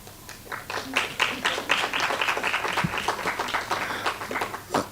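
Audience applause fills a conference hall at an event about Black people with cancer, steady clapping from many hands sustained throughout at moderate level with no speech over it.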